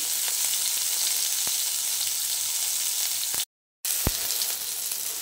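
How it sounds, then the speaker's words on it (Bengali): Green banana and eggplant sizzle steadily in hot oil nearby, with a few sharp pops and a brief dropout partway through. "কাঁচকলা আর বেগুনটাকে ভেজে নিচ্ছি।"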